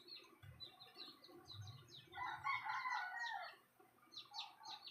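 Several chicks from a white gold chicken breed peep in high, quick bursts beside their hen, which clucks in low, soft notes; a louder, busier flurry of chirping swells through the middle.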